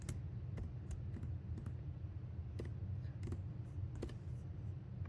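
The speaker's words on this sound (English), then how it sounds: "even this like part that I'm typing out right now, it's so familiar, and even I'm getting like really used to typing this all out." Typing code on a computer keyboard, a stream of light clicks with scattered sharper key strikes over a steady low background hum, no voices.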